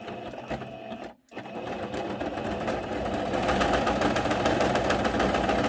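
A sewing machine stitches a picot pattern on an American-style placemat, giving a steady mechanical whirr. It stops briefly near the start, then runs on continuously and slightly louder.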